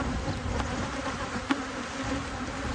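Honeybees buzzing around a beekeeper during spring hive work, a steady close insect drone with a few louder passes near the ear, no talking.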